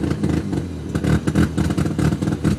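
A Mazda RX-7 engine on a cold start, breathing through dual exhaust, revs loudly and continuously up close with a rough, pulsing idle and repeated throttle blips.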